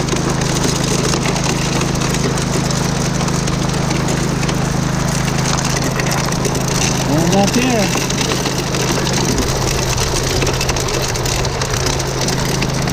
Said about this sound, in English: The sound of gravel going through a machine.